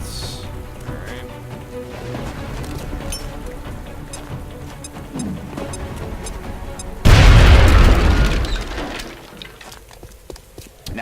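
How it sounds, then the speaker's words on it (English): A frag grenade detonates in the strategy game XCOM: Enemy Within, a sudden loud booming blast that cuts in after several seconds of quiet game ambience and then decays over about two seconds. "Now toss your grenade at the enemy in front of you."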